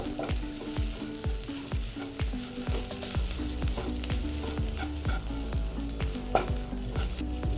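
Spice powders (chilli, garam masala) fry and sizzle in a pan for a mushroom masala while a spoon scrapes and stirs them in steady repeated strokes, close and fairly loud, with no talking.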